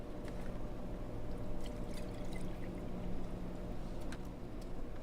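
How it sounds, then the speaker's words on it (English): Milk pours into a metal pitcher in a quiet, continuous trickle with faint splashing, steady for several seconds with no talking. "Pour the milk into the pitcher."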